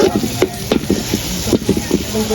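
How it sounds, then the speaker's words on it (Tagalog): Garlic and hotdog sautéing in a very hot pan, a busy sizzle broken by repeated scraping and stirring knocks from a utensil, close and fairly loud. "Next na natin is ang hotdog. So, gisa-gisa lang tayo"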